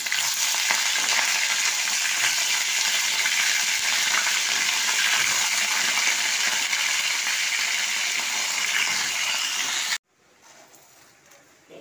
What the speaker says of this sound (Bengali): ওই তেলেই আমি মাংসগুলো তুলে দিলাম